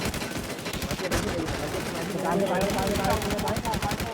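Rapid video game gunfire, dense repeated shots rattling continuously through the whole stretch, close and loud, with a voice talking over it.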